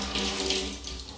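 Water runs from a tap into a small container for a moment, a steady continuous splash and trickle heard up close with no talking.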